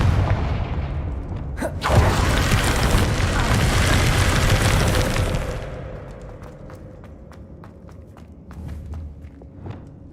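A loud, sustained roaring blast from the Confringo fire spell in Hogwarts Legacy swells and rumbles for several seconds, then fades into a series of sharp, scattered cracks and impacts.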